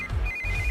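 A short burst of an electronic phone ringtone in a Hindi-dubbed film, a thin high tone repeating quickly over a low background rumble.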